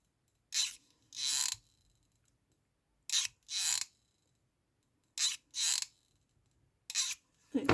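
A hot glue gun's trigger mechanism makes paired rasping clicks, repeating four times in a steady rhythm with quiet gaps between, close and fairly loud.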